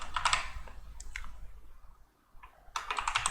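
Bursts of typing on a computer keyboard, with quick clustered key clicks separated by a pause, close and fairly quiet.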